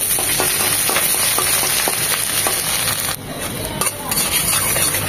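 Chopped onion frying in a pan, a steady loud sizzle with occasional stirring scrapes, close up and continuous without speech.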